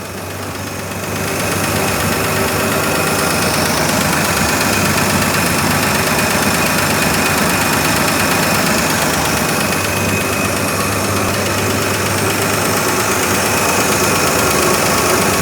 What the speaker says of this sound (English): We need to do a valve adjustment on it. That's what that tick, tick, tick, tick, tick, tick, tick, tick sound is.